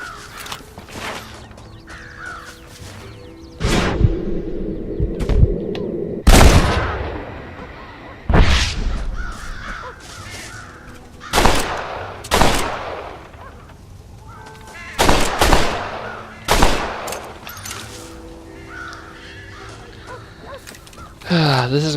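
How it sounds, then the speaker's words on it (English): Sharp, loud gunshots fire one by one at irregular intervals while crows caw around a silo in the Western video game Red Dead Redemption, with a low ambient game hum between the shots. "shooting crows."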